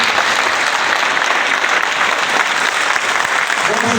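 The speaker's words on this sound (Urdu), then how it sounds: "آپ تالیاں بجا کر ان کا استقبال کریں" Loud, dense applause from a large crowd at a political election rally, steady continuous clapping from start to finish with no speech over it.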